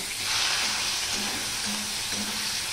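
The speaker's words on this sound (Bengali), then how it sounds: "এবার যে ম্যারিনেট করে রেখেছি চিংড়ি মাছটা, সেটা আমি অল্প অল্প করে দেব আর ভেজে নেব।" Marinated prawns frying in a pan at steady close range, a dense continuous sizzle with a few soft stirring or scraping touches and no voices.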